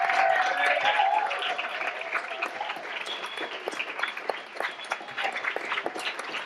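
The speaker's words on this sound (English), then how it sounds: "Let's have another round of applause." Sustained applause from a comedy club audience, steady and dense throughout, with a few scattered whoops and voices mixed into the clapping.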